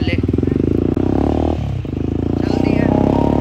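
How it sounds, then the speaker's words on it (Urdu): Honda 125 motorcycle fitted with a modified HKS exhaust, idling and revving close by with a loud, rapid, pulsing putter that dips briefly then picks up again, while people talk nearby. "یہ رہا جی ایگزاسٹ، سن لے ساؤنڈ"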